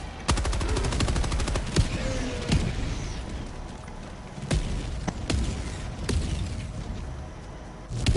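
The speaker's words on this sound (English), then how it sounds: "Orbital barrage incoming. Stand clear." A rapid barrage of heavy booms and sharp blasts from an orbital strike in a video game, repeated explosions crashing over a dense rumbling background, loud and close throughout.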